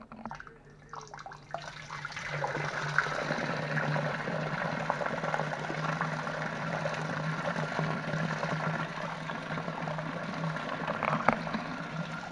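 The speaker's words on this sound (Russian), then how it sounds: "и выливаем примерно вот так вот воды" Steady splashing and bubbling as boiling water pours continuously into a container, close and fairly loud, with no talking.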